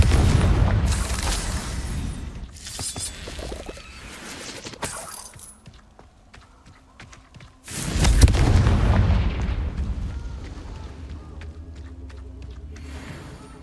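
Confringo and Stupefy spells cast in combat in the Hogwarts Legacy video game, loud booming blasts and bursts in quick succession, pausing briefly before another heavy explosive burst that fades into lingering rumble.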